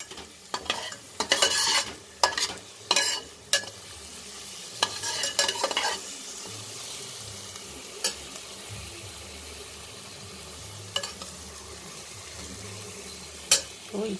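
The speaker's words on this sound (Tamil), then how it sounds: "வெங்காயம் வதங்கிருச்சு." Onions sauté in a pan for egg pasta, with several quick spoon-scraping stirs over a low, steady sizzle early on, then the frying continues alone with occasional sharp clinks.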